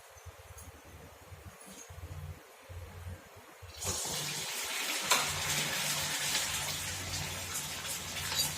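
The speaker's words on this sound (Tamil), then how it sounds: "இப்போ ஆயில் சூடாயிட்டு போட்டு எடுத்துக்கலாம்." Rava cheese balls drop into hot oil and fry, a quiet background giving way after a few seconds to a steady, close bubbling sizzle that continues to the end without talk.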